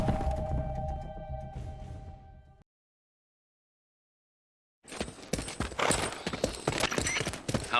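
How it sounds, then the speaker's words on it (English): Horse hooves clip-clop in the video game Metal Gear after a tonal passage and a silent gap, ending in a run of quick, fairly close, moderately loud steps. "How's the horse doing?"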